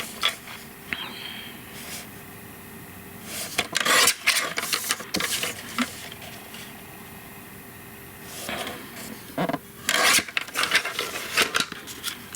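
Adhesive-backed cardstock, embossed with a 3D folder, being trimmed for a card: a few short bursts of cutting and sliding noise in a quiet room, close and fairly soft, with no speech.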